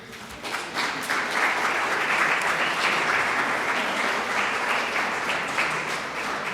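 Audience applause at an awards gala, a dense, steady wash of clapping from a large crowd that swells quickly and holds at full strength throughout, with no talk over it.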